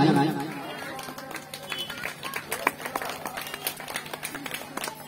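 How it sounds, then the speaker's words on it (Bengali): Applause from an audience at an Ayurveda life care event, a dense patter of many hands clapping that continues steadily throughout, mixed with crowd murmur and an amplified voice. "আমরা একটু হাততালি দিয়ে অভিনন্দন জানাই"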